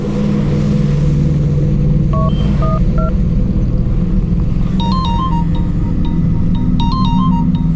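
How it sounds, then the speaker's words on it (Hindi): A phone's electronic ring tones sound in repeated bursts, clear and close, over a steady low engine-like rumble. "अनु देखना किसका फोन है।"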